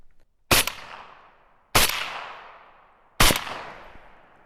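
Three loud, sharp rifle shots from an Arsenal SAM7K-44 firing 122 grain rounds at a range, spaced just over a second apart, each followed by a short decaying echo.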